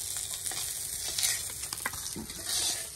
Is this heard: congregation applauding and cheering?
no